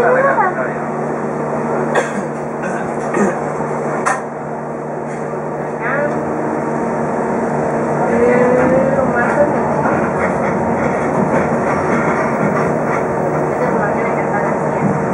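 Local train KA 460 Pandan Wangi pulling out of Ketapang station from track 1, a steady rumbling engine drone with squeals and clanks building as it gets moving, a voice speaking over it at times.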